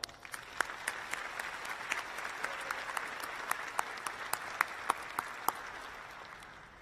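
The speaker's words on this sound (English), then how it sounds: "Another round of applause for Tyler." An audience at an Ivy College of Business convocation gives a sustained round of applause, a dense, fairly distant wash of clapping with a few sharper nearby claps standing out.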